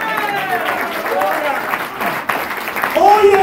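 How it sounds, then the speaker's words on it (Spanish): Congregation applauding the Lord at an evangelical church service, a steady wash of clapping from a crowd that swells louder near the end, with voices mixed in. "Dar un aplauso al Señor."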